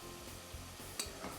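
Meat and vegetables sautéing in a pot give a quiet, steady sizzle with a brief stirring clink near the end.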